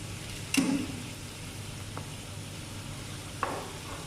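Carrots dropped into a pan of softened, cooking tomato, giving a brief clatter and a burst of sizzling near 0.6 s, then a soft steady frying hiss with a couple of small taps.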